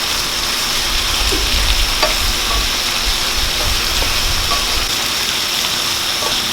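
Shrimp fry in a hot pan for spinach pasta with Indonesian bumbu putih, giving a loud, steady, dense sizzle with occasional faint stirring clicks and no talk.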